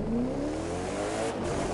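An extremely fast car's engine in the racing game The Crew 2 revs with a rising whine, loud and continuous, with no talking.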